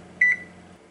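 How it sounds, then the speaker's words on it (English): A kitchen timer set while making crock pot yogurt goes off with one short, clear electronic beep over a low steady hum, near and moderately loud. "Now that the timer's gone off"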